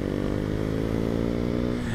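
The single-cylinder engine of a 2019 Husqvarna Vitpilen 401 motorcycle runs close and loud, a steady buzzing throb with a rapid pulse and a slight rise in pitch near the end.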